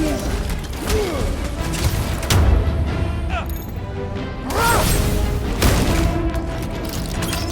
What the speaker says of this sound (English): Let's pop that wall so he stops handing out treats!